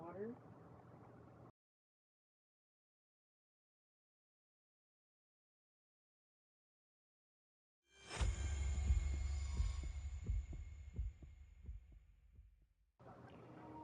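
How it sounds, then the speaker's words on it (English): A rapid, throbbing heartbeat with a low hum fills a tense, quiet moment in the video game Zenless Zone Zero, loud and close, pulsing between stretches of near silence with brief speech at either end. "with only his rapid heartbeat echoing"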